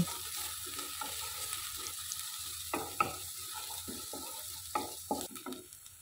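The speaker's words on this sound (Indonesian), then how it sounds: "Kalau minyaknya udah panas, masukkan bumbu yang udah dicincang. Aduk-aduk sampai berbau harum." Chopped spice paste fries in hot oil for a rolled pastel filling, a steady sizzle broken by scraping stir strokes and intermittent utensil knocks, with a faint watery hiss in the background.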